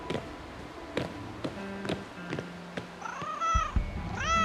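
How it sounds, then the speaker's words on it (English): A cat in the video game Broken Roads gives a few rising meows near the end, over light tapping and soft in-game background sound. "there's another cat behind there."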